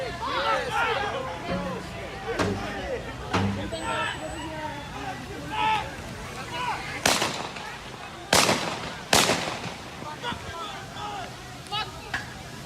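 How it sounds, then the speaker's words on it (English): Gunshots fired at a protest in Kenosha: several sharp, loud cracks ring out, a few seconds apart in the second half, over constant crowd chatter and talking. "Those are gunshots, people."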